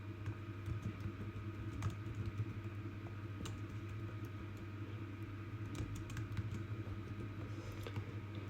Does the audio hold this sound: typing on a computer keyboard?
yes